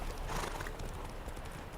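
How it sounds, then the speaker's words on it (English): Horse hooves clip-clopping in the video game The Witcher 3, a steady run of close, clear hoof beats over a dense, continuous background for under two seconds, with no talking. "What is this horse doing?"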